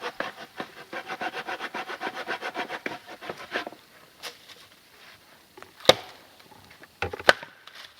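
A hand saw cuts into a log in rapid, rhythmic strokes that stop midway, followed by a few scattered knocks and thuds of wood, close and loud.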